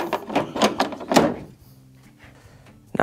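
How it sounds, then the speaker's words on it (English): A plastic dispenser drawer on an LG washer slides back into place with a string of close, loud scraping rattles and a soft thunk, followed by a faint low hum. "And then let's go ahead and just slide our drawer back in."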